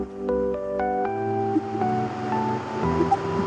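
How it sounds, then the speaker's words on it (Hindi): Chicken seekh kebabs shallow-fry in a pan with a steady, even sizzle throughout, with faint tonal music in the background. "कबाब डालते हैं और इन्हें शैलो फ्राई कर लेते हैं।"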